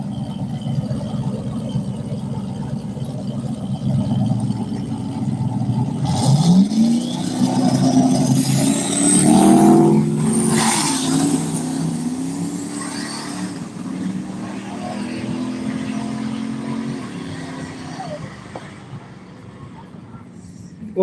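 A Ford Mustang and a Chevy S10 drag race at a dragway, engines roaring loudly with rising and falling revs as they accelerate down the strip. Continuous crowd and background noise sits underneath.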